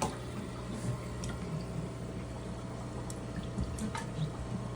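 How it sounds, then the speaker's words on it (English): Water sloshing and dripping as a hand scrubs slime off the glass sides and bottom of an aquarium, a steady close wash of small splashes and trickles under a constant low hum. "I'm also going to be washing off the glass with my hand, just kind of scrubbing off the sides and the bottom"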